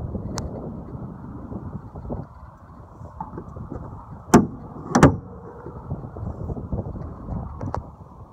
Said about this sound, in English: Open the door here, and you notice it doesn't open all the way.